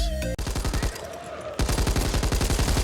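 Rapid automatic gunfire from players shooting zombies in the co-op shooter Back 4 Blood, loud and steady bursts of evenly spaced shots with a short gap in the middle, then continuous firing again.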